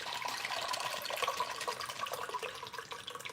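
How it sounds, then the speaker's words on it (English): Liquid pours steadily into a glass as a spiked ginger lemonade cocktail is served, a continuous trickling splash close by with no voices over it. "let's pour this cocktail"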